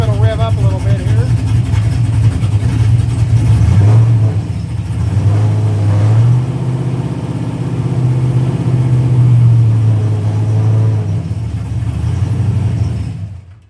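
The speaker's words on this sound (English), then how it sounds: "We'll see if it'll rev up a little bit here." A Pontiac GTO engine being tuned, running loud and close with a rough low rumble, rising into a couple of revs before settling and cutting out abruptly at the end.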